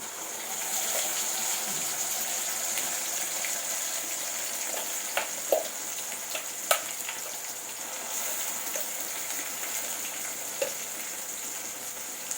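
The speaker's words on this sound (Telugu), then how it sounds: "ఇదిగో ఈ మసాలా వేస్తున్నాను" Steady frying sizzle of Nellore mutton curry as masala goes into the hot pan with browned onions and curry leaves, with a few small clinks and crackles over the continuous hiss and no voices.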